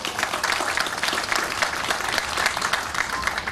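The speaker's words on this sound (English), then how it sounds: "Clap it up for DPS." A crowd at a Detroit Public Schools enrollment launch event applauds steadily and loudly, dense clapping filling the room without pause and with no speech over it.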